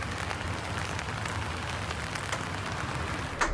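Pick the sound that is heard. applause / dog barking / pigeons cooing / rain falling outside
rain falling outside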